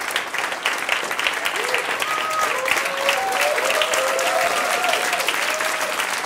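Sustained applause from a crowd, dense steady clapping throughout with a few voices and cheers mixed in.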